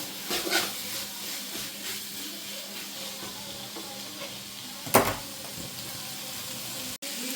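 Onions for chicken curry sautéing in a pan in a home kitchen, a steady soft sizzle running throughout with a brief clatter near the middle and a sharp knock near the end.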